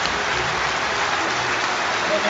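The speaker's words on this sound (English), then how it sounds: "he deserves the ovation he's getting from his hometown crowd" At a Bolton Wanderers versus Manchester United football match, a hometown crowd gives Amir Khan a sustained ovation, a steady, dense wash of applause and cheering.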